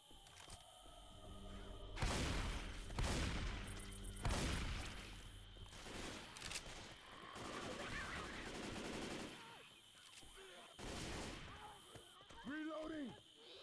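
Assault rifle gunfire in the video game Left 4 Dead 2, sustained rapid automatic bursts with thumps and whooshes, fairly quiet overall and settling into lighter noise near the end.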